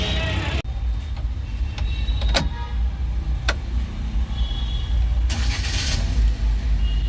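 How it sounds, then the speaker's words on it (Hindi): A car engine turning over and settling into a steady idle, close by, with clicks and a brief whir partway through, heard over a constant low rumble. "गाड़ी स्टार्ट हो गई"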